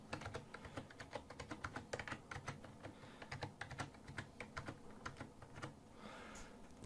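Typing on a Razer Cynosa Chroma keyboard: a steady run of quick, close key presses with uneven rhythm and soft clacks, quiet and alone with no talking.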